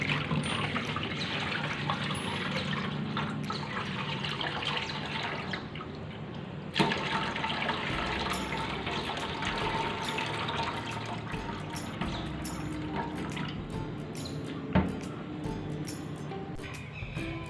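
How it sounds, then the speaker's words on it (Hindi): Water splashes and trickles as it is poured off washed raw liver (kaleji) in a kitchen, a continuous close pouring and draining with a couple of sharp knocks from the vessel. "अब मैं इसका ये पानी निकाल रही हूँ"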